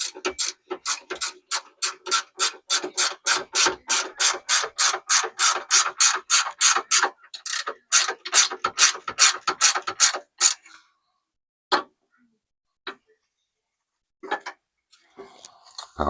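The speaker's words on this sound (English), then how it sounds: "Ratchet wrenches, man. Get you some." Rapid, steady clicking of a ratchet wrench being cranked on the front end of a manual Challenger R/T, dozens of sharp ticks in a row, then a few slower isolated clicks near the end.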